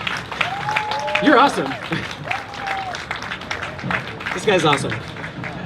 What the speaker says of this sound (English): Guys, can you keep clapping for Ethan Slater?